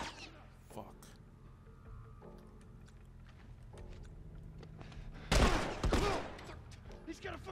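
Gunfire bursts in The Last of Us, a loud cluster of shots around the middle of the clip after quieter game ambience, with voices talking over the scene.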